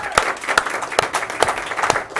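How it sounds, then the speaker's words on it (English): Studio audience applauding a guest on a local talk show, a short burst of fairly close clapping with sharp individual claps rising above a steady crowd patter. "A round of applause for this young man here."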